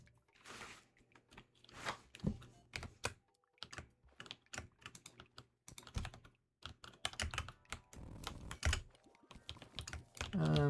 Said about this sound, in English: My keyboard is like arguably more audible than it should be.